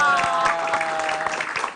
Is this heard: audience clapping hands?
yes